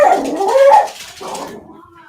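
A dog nearby lets out eager whimpering yips and whines, rising and falling in pitch, followed by a softer trailing whine that fades out.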